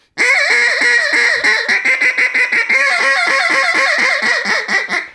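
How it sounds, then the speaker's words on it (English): A hen mallard squeals in a loud, close, rapid run of about twenty nasal, honking quacks in an even rhythm, briefly pausing midway before continuing. "It's a hen mallard squealing."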